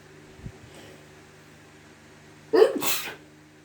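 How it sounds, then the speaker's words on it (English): A single sharp sneeze bursts out near the end, loud and close, after a few seconds of quiet room hum. "Sneezing on a Monday is danger."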